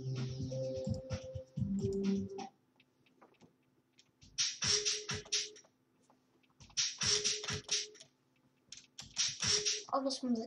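Bursts of rapid computer keyboard typing come in several separate runs of quick clicking keys, fairly faint and close, with a voice speaking briefly at the start between quiet pauses.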